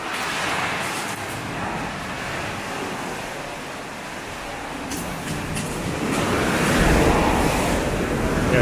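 Sea waves wash steadily against a rocky shore at the Blue Cave on the Noto Peninsula, Ishikawa, a continuous broad surf roar that swells louder toward the end, with wind buffeting the microphone and no voices.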